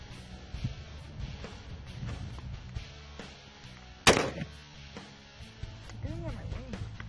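One sharp, loud rifle shot from a DPMS Panther Arms AR15 fitted with a Sightmark red dot sight cracks out at an outdoor range midway, against low background rumble and faint voices.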